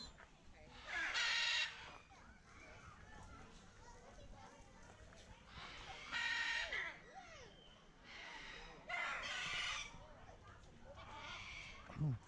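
Several birds call out in loud bursts, including rooster-like crowing, with a person talking quietly between the calls, at Sarasota Jungle Gardens.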